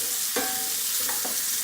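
Pork tenderloin browned on three sides searing in a pan, a steady sizzle with a couple of brief scraping stirs and no talking.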